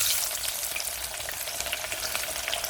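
Fifteen small shallots, cut into chunky pieces, sizzle in hot oil with cinnamon, bay leaf, fennel seeds and two dried red chillies, a steady close hiss of frying with faint stirring and no talk.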